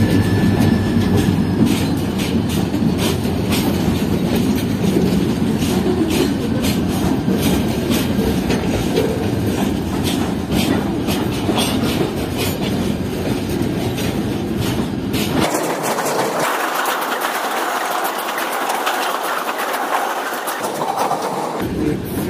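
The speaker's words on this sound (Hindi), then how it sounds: "फ्रेट ट्रेन लग चुकी है मली रेलवे स्टेशन के अप लूप ट्रैक पर।" A freight train rolls along the up loop track at Mali railway station with a loud, steady rumble and rhythmic wheel clatter. The sound thins to a lighter, hollower rattle in the last stretch.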